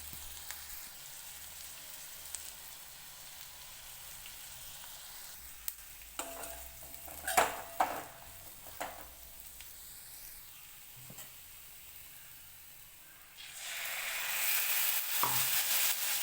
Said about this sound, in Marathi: त्यात आता चटणी टाकून घेते आणि मिक्स करते